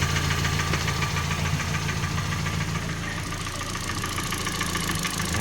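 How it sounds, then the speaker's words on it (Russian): A 2013 Hyundai Elantra GT engine idles close by with a steady mechanical hum and a faint ticking knock, running evenly throughout with no voices. "Мотор работает ровно."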